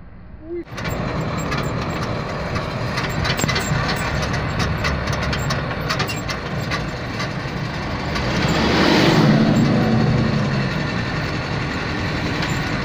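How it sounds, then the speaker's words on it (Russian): Steady road rumble and engine drone inside a moving motorhome trailer, with rattles and a swell of louder road noise partway through, while people talk over it. "мы едем с ними вот в таком вот уютном трейлере"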